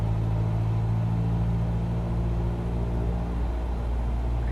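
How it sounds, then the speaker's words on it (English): Bush plane engine in Microsoft Flight Simulator running up to 1800 RPM: a steady, loud droning rumble with strong low harmonics that holds evenly throughout, with no talk over it. "let me just rev it up to 1800 RPM"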